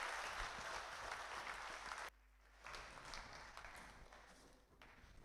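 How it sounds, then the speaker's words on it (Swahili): A church congregation at a Sunday Kikuyu service applauds for Joshua, a dense burst of clapping that drops briefly partway, then swells back and carries on more loosely. "Tumpigie Joshua makofi"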